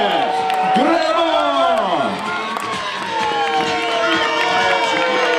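Home fans at a firefighter competition cheering and shouting loudly, a dense crowd of whoops and yells with overlapping voices, continuous and close.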